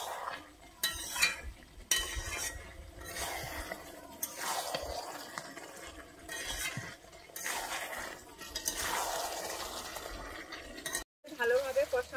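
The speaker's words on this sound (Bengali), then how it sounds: "আমি এর মধ্যে দিয়ে দিচ্ছি ভেজে রাখা আলুটা। আলুটা দিয়ে আমি আর 1 মিনিটের জন্য আমি কিন্তু কষিয়ে নিচ্ছি।" Fried potatoes stirred and sautéed in a frying pan with cooked masala, a steady scraping and soft sizzle with irregular stirring strokes, close and moderately loud, brief pause near the end.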